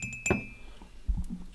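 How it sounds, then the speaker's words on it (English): A glass cup gives a bright clink close by, followed by a softer dull knock as it is handled, indoors among a toy collection. "There's a glass cup."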